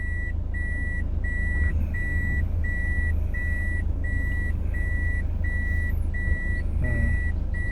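A driving-school car in Uttara, Dhaka, sounds its reversing alarm: evenly spaced, loud electronic beeps repeating steadily throughout over a constant low engine and traffic rumble.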